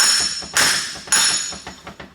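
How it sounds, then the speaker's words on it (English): A hammer taps the stub axles out of a Nissan 240SX R200 differential with its cover off: a couple of sharp metallic knocks about half a second apart, each with a bright ringing tail, then lighter clinks. "a good way to do that is to tap them with a hammer"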